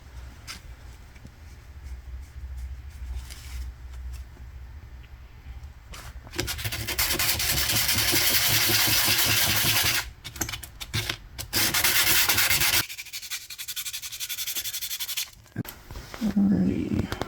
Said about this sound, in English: I was going to get a lot of the surface rust off of it